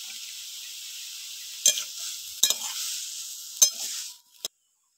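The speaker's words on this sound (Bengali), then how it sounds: "এবার চিংড়ি মাছটা ভালো করে ভেজে নেব।" Shrimp frying in a pan, with a steady bright sizzle broken by a few sharp stirring scrapes before the sound cuts off abruptly near the end; close and fairly quiet, with no talking.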